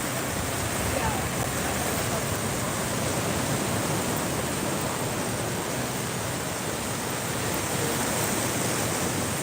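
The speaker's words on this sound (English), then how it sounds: "these are actually really good waves" Ocean waves wash onto a beach in a steady, continuous roar of broadband surf, loud and close with no distinct pauses between breakers.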